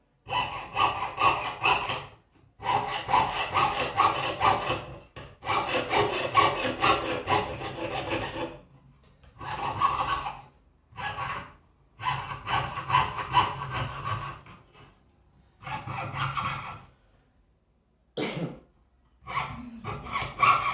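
Hand saw cutting through wood in a craft class, steady back-and-forth strokes in several bursts of a few seconds each, separated by short pauses, close and fairly loud with no talking.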